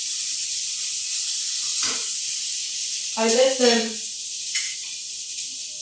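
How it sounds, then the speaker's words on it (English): Sliced tempeh sizzles in a warmed non-stick pan over medium-high heat, a constant bright frying hiss, with a person talking briefly over it partway through. "Maybe you can hear the sizzling."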